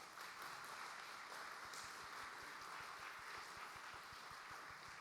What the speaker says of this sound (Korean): 우리 김재필 성도님, 우리 세 분 자리에서 잠깐 일어나시면 박수로 환영하도록 하겠습니다.